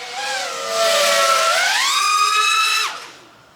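GEPRC Mark5 5-inch FPV drone flying with its motors in a smooth high whine that climbs in pitch, holds, then drops away sharply, loud and fairly close without any talking.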